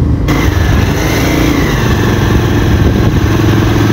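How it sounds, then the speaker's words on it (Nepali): A motorcycle engine starting and revving on a road along the Tamor River in Nepal runs loud and close, rumbling continuously with a rough, steady throb and slight swells in intensity. "स्टार्ट गर्ने बाइक"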